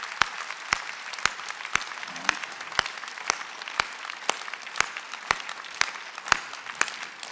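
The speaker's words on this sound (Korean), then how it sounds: "박수 세게 치라고." Church congregation clapping in unison during a Sunday worship service, sharp evenly spaced claps about twice a second, loud and steady throughout with no talking.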